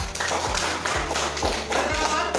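A classroom of students applauds a presenting group, a dense wash of many hands clapping close by with a loose rhythmic pulse of stronger bursts roughly every half second, steady and loud throughout.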